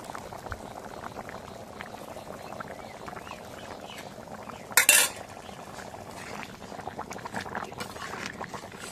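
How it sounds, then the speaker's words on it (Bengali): Bottle gourd curry boils steadily in a pot, a continuous close bubbling simmer with a single sharp clink of a metal utensil against the pot partway through. "লাউটা একটু পরিমাণে সেদ্ধ হয়ে গেছে, অনেকটাই সেদ্ধ হয়েছে।"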